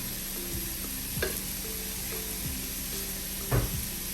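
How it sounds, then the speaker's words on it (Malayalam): Onions, green chillies and curry leaves sauté with salt in a pan, a soft sizzle under periodic scraping strokes of a spoon, with a sharper clatter near the end; no one speaks. "നമുക്കൊരു ഇച്ചിരി ഉപ്പും കൂടെ ഇട്ട് ഇതൊന്ന് വഴറ്റാം"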